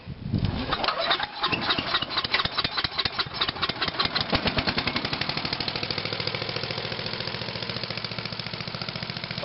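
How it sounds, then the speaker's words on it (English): A Tecumseh engine on lawn equipment catches on a single pull, sputtering and chugging unevenly for a few seconds before settling into a steady, rapid idle, close and loud with no talking. "gotta love your Tecumseh engine. Starts in one pull"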